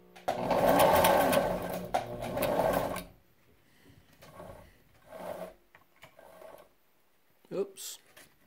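Family Sew sewing machine with a Cuda crank wheel and its original 1.5 amp motor runs in two close bursts of fast, steady stitching. Quieter, shorter runs follow, and a person speaks between them.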